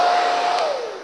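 A hair dryer blows loudly and steadily, its whine dipping slightly in pitch toward the end as the airflow fades a little.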